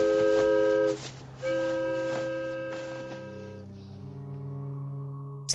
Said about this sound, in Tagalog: Sumakay na sina Sylvia nang dumating ang tren.